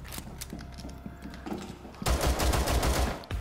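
Rapid pistol gunfire in a competitive shooter game, a quick string of loud sharp shots bursting in after a quieter stretch of background game noise.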